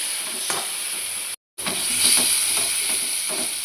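A pan of ground ginger, garlic and green chilli paste with salt, turmeric and cumin powder frying, giving a steady close hiss and sizzle with soft stirring scrapes and one brief dropout.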